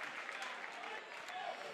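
A crowd at a Fairfield vs Effingham boys high school basketball game cheers and claps after a blocked shot, a fairly faint but continuous wash of applause filling the gym.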